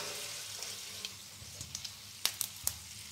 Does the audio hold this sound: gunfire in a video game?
no